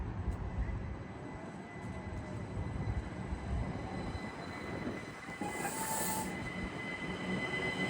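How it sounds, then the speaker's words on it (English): Great Northern Class 387 train pulling out of a station bound for Peterborough, heard as a faint, steady rail rumble with wheel noise and a brief high squeal near the end, with no talking. "There goes this train."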